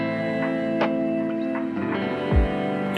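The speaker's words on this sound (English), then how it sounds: "The other setting I use a lot is the crush setting" Sustained chords ring through a reverb pedal on its crush setting with a lowered sample rate, giving gritty, shimmering tails, with a few plucked accents and a low thump near the end, alone and fairly loud.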